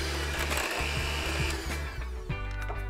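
An electric mixer beating flour into dairy-free cream cheese chocolate chunk cookie dough, a steady whirring motor hum with a slight pulsing rhythm as the beaters churn, close and continuous for a few seconds.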